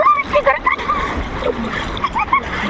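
Water splashing as people swim and bathe in the Ganges river, irregular close splashes and sloshes mixed with voices talking.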